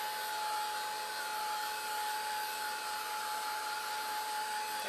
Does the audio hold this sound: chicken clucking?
no